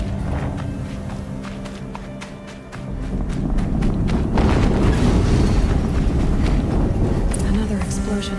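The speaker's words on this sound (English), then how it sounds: "Another explosion." Booming in-game explosions from Horizon Zero Dawn rumble through the clip, a swell of heavy low-end blasts building midway and holding loud, with a voice speaking over the noise.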